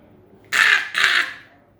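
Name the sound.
crow cawing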